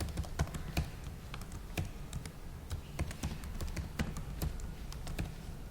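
Typing on a computer keyboard while entering an email address and password, a close run of quick, uneven key taps with small pauses between bursts, alone with no talk.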